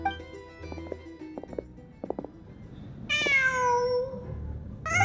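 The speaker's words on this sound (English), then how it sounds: "Huh. Just a cat." A cat meows in the Genshin Impact video game: one long, clear meow, with a second starting at the end, after soft faint footsteps and thuds in a quiet scene.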